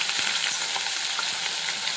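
Green garlic sizzles in hot ghee for a Gujarati garlic rotlo, a steady, close hiss of frying with faint crackles throughout and no voices.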